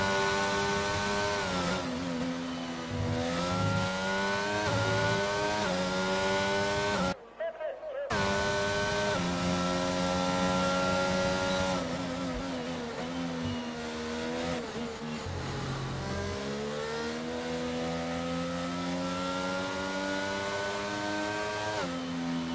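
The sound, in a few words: racing car engine on track, from a racing video game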